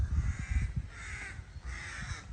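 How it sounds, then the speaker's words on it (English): Birds, likely crows, cawing repeatedly in harsh bursts, fairly close, over a low rumbling outdoor background at Kiel Harbor in Germany. "You hear the birds."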